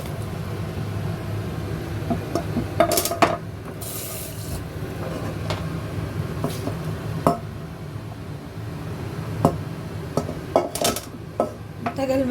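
Cooked sweet potato leaves strained in a pot: scattered metallic clinks and knocks of the pot and utensils over running, splashing water, close and intermittent, with no talk.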